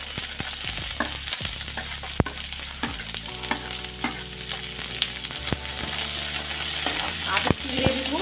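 Chopped onion for a pointed gourd and potato curry sizzles steadily in hot oil in a pan, with a spoon scraping and stirring at intervals, close and continuous without talk.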